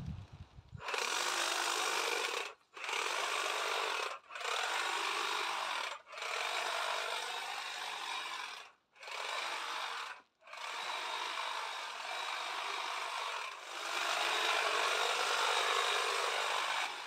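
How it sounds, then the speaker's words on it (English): An evergreen Euonymus shrub in a winter garden is trimmed with a powered hedge trimmer, which buzzes loudly and close in several sustained bursts broken by short pauses. "I'm going to trim that back ever so slightly too, ever so slightly."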